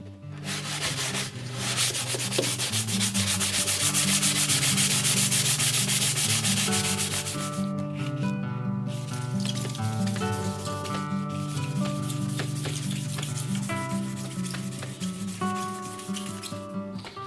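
Wet and dry abrasive paper rubs over a NordMende Elektra 58 radio case in long, loud, continuous strokes, briefly pausing before the scraping resumes in a steady rhythm.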